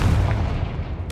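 A Confringo blasting spell fires in the Hogwarts Legacy video game, a loud booming burst that rumbles and decays over about a second.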